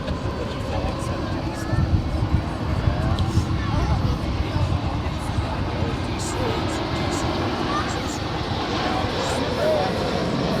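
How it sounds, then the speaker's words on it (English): An American Airlines Airbus A321 arrives at Dallas-Fort Worth International Airport on a flight from Cancun, giving a broad, steady roar of jet noise that holds for the whole stretch with no gaps. "Our next arrival is American Airlines Flight 2207 coming in from Cancun"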